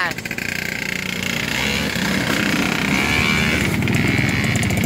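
A Yamaha V80 motorcycle revving on an off-road trail, its small two-stroke engine buzzing loudly and steadily close by, with shouted voices in the mix.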